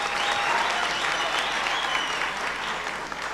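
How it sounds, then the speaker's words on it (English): An audience at a digital rights discourse event gives a sustained round of applause, a loud, even wash of many hands clapping from start to finish. "can we give ourselves another round of applause"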